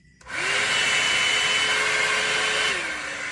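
A steady, loud electric blower whooshing with a constant motor whine, starting abruptly and running continuously before easing slightly at the end.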